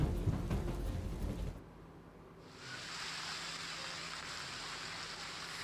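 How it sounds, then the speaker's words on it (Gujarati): Steady, dense hiss of heavy rain with gusty winds in Veraval, Gujarat, pours without pause, briefly dipping before returning at full strength, with no voices. "વેરાવળમાં સતત 3 દિવસથી ધોધમાર વરસાદ વરસી રહ્યો છે"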